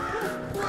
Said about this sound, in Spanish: ¡Cuervo! ¡Aléjate de mí!